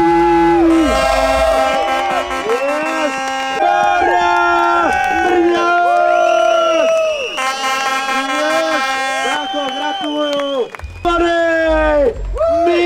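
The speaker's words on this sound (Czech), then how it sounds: "velký aplaus pro Mikyho" A crowd cheers at a downhill mountain-bike race on the Špindlerův Mlýn ski slope. Loud, sustained air horns and buzzing horns blare over shouting and applause, with an announcer's voice speaking through it.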